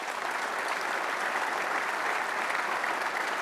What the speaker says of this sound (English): Please, a special round of applause for them.